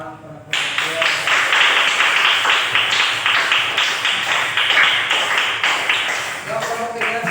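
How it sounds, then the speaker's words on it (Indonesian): Classroom participants at an Indonesian teacher training session break into loud, sustained applause, many hands clapping in a dense, even patter that starts abruptly after a brief quiet moment and carries on steadily to the end. "Betul, yuk beri tepuk tangan para peserta."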